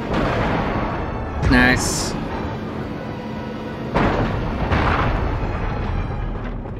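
Explosions tearing apart a Ferris wheel in Destroy All Humans: a sharp blast at the start, then a second heavy boom and rolling rumble, with a brief spoken word between.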